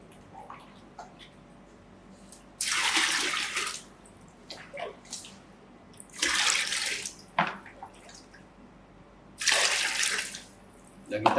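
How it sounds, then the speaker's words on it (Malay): Water is poured into a container to dissolve fertilizer for an urban farming kit, in three loud splashing bursts a few seconds apart, with quiet handling sounds between them. "Kita akan tambah lagi air."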